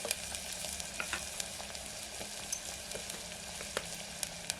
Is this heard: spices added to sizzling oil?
yes